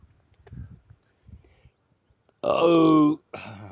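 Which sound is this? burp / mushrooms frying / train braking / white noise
burp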